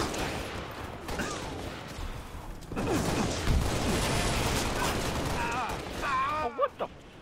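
Gunfire in the video game Halo Reach during a Big Team Battle Slayer match on Boneyard, with rattling bursts and explosions over a busy game soundscape, and a player talking over the action.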